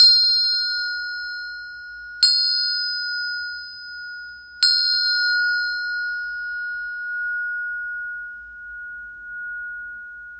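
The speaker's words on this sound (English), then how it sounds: "This is the bell of mindfulness. I'm going to hit the bell 3 times." Tingsha bell used as a mindfulness bell, struck three times at slow, even intervals, each strike giving a bright metallic ding that rings on in a long, clear, slowly fading sustain, close and alone.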